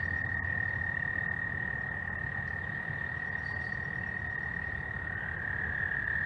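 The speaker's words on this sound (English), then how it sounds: "those frogs little as hell too. They make the most noise." A steady, shrill chorus of small frogs croaks continuously, close and insistent, over a low background rumble.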